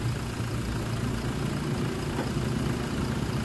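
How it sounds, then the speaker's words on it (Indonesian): A Toyota Innova 2.4 diesel from 2022 idles, heard from outside the car, as a steady low rumble with an even knocking texture, loud and close, and no voices over it. "ini nih kalau diesel Innova tuh suaranya begini nih kalau dari luar"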